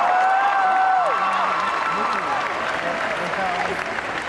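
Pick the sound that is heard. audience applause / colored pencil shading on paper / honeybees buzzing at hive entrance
audience applause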